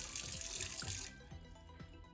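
Tap water runs loudly into a black-finish sink with the drain stopper closed in a tiny house. The rush cuts off after about a second, leaving soft splashes and drips as the water settles in the basin.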